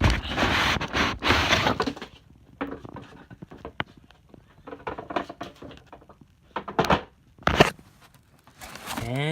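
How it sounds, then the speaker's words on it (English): Hatsune Miku Project Diva game controllers for PS3 and PS4 being unwrapped, with a loud burst of crinkling and tearing packaging at first, then quieter rustles, taps and a few sharp crackles. "Just give me a moment to unwrap this."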